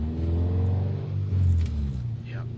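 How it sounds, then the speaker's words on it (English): A loud, rough car engine with no muffler rumbles and revs unevenly, its raw growl filling the space, with faint talk mixed in. "my muffler fell off today"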